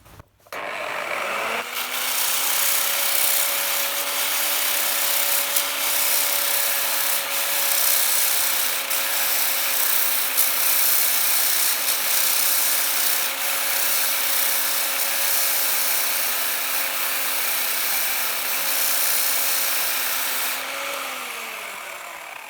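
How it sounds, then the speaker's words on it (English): A cut glass bottle edge is sanded with a steady, continuous whirring grind as it is rotated. The sound runs loud and unbroken for about twenty seconds with a sustained motor-like hum underneath, then winds down at the end, with no talk. "as you sand it, I usually try and keep one side on and the back side slightly off, and just keep rotating it around"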